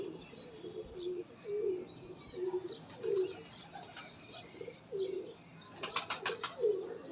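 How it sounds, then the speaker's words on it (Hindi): Black Moti and Sheru breeder pigeons coo in repeated low, rolling phrases close by, with bursts of wing flapping toward the end. "जो ब्लैक मोती और ये मेरे शेरू कबूतर हैं"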